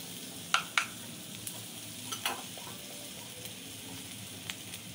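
Crab sizzles in a wok with curry powder and pepper as it is stirred, a soft frying hiss broken by a few sharp scraping clinks of the spatula near the start and scattered lighter taps after.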